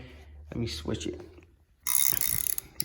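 Valve spring compressor tightened one-handed on an LS cylinder head, a few short ratcheting mechanical clicks and clanks, then a louder burst of metallic clatter near the end, with a brief spoken remark in between.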